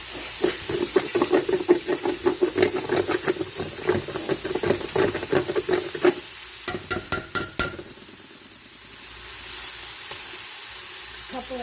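Sofrito for yellow split pea soup with smoked turkey tails sizzling in a pot, a steady frying hiss with rhythmic spoon stirring and scraping, fading to a softer simmer toward the end.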